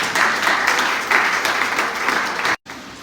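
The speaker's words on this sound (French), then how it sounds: "Acclamons pour le Seigneur." Church congregation applauding, a dense burst of clapping that rises and holds for about two and a half seconds and then cuts off abruptly.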